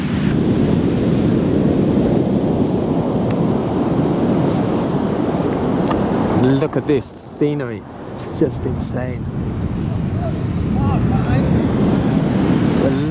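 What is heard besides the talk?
ocean waves breaking in a cove on Taiwan coast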